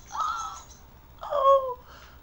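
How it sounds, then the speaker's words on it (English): A starling outside gives two drawn-out whistling calls, separated by a short pause and followed by a faint trailing note, fairly quiet and distant with no talk over it. "there's a starling outside. And it's whistling."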